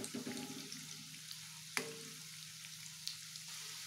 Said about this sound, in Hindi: ये देखिए जो बचा था उसे भी हमने डाल दिया है और वैसे ही हम फ्राई कर लेंगे।